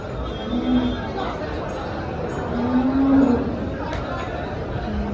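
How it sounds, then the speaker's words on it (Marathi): A cow lets out a couple of low moos amid steady background noise and murmuring voices at a cattle market in Dhule. "एक नंबरची क्वालिटीची गाय आहे मित्रांनो"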